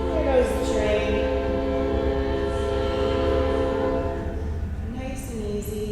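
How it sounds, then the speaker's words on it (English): A train rumbles past outside with a steady low drone and a long sustained horn blast, while a person speaks indoors over it. "There goes the train."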